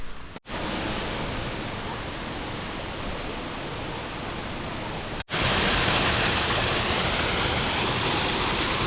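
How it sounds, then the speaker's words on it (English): A Blue Mountains waterfall roars as a steady broadband rush close by, broken by two abrupt cuts, and grows louder after the second. "we are getting closer and closer to waterfall"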